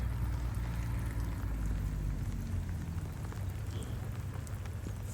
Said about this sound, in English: as you can hear and as you can see, the rain decided not to hold off and it absolutely hammered it down the whole hour we were there